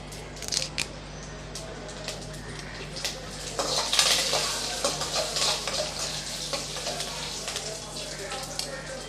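Onions and seasonings sauté in a pan for coconut rice as a sprig of curry leaves goes in, giving a soft steady sizzle with a louder crackling burst midway and scattered clinks of a spoon against the pan.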